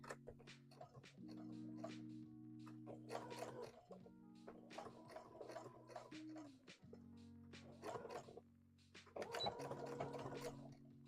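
Sewing machine stitching fabric during a live sewing session, running in steady mechanical bursts with short pauses between them, close and clear under faint background noise.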